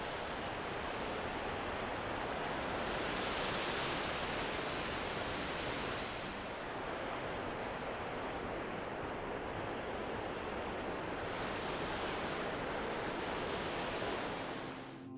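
Steady, loud rushing water from a waterfall at Hallstatt, Austria, fills the whole clip, a broad continuous roar like falling water, with slight swells in intensity and no voices.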